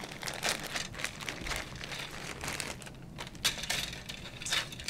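Plastic bags holding Italeri M4 Sherman scale model tank kit parts are cut open, giving close, irregular crinkling and crackling bursts that keep going throughout.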